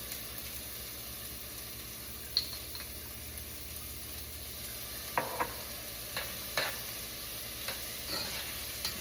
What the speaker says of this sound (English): So we want these to get translucent.